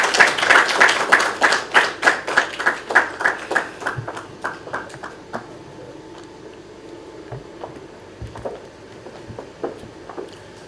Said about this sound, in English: We clap for her until she reaches here.